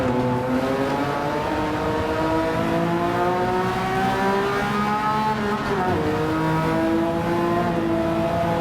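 A RUF CTR3 Porsche-based car engine in Gran Turismo 7 revs steadily and loudly through the gears, its pitch climbing, dipping sharply at a shift, then rising again, with no talk over it.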